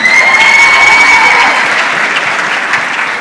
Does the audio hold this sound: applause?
yes